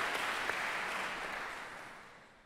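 A concert audience at a Montréal symphony orchestra's organ and space-themed program claps together, a thick burst of applause that gradually fades away over a couple of seconds.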